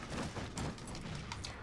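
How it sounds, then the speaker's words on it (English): Shotgun blasts in a Halo 4 multiplayer match on Master Chief Collection, heard as dense, loud bursts of gunfire blended into continuous game noise, with no one speaking. "Oh, he had a shotgun."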